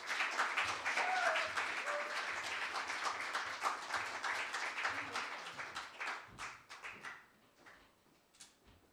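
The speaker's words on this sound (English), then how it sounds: "give a warm welcome and a hearty round of applause for Mr. Derek Lee." A live audience applauds at a spoken word show held at the Old Jail, a dense burst of clapping that gradually thins into scattered claps and fades out.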